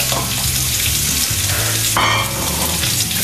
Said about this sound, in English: a bit of oil in there. First thing I'll chuck in there is our onion